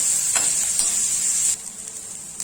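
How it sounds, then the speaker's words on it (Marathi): Onion sautéing in hot oil in a pan for a drumstick-leaf vegetable dish, a steady close sizzle with brief stirring scrapes, louder in the first half and then dropping to a softer hiss, with no talking. "आता आपण चांगला परतून घेणार आहोत तेलावरती"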